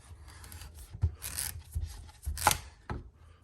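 A knife cuts squash into slices with several separate crisp chops and scraping strokes at an uneven pace, close up and fairly quiet, with no talking.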